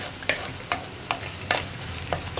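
Chopped onion and chilli flakes fry in a pan, a steady sizzle broken by about six evenly spaced scraping stirs of a spoon, close and clear with no talking.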